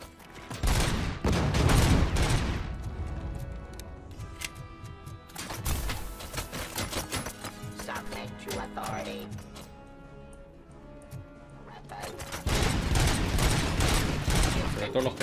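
Bursts of heavy machine-gun fire in the video game RoboCop: Rogue City, loud rattling volleys at the start and end with mechanical clanks between, a voice talking over part of it.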